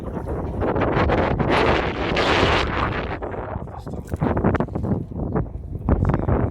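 Strong wind buffets the microphone at a fishing lake. The roar is loud and continuous with gusty swells, and other sounds are hard to pick out beneath it.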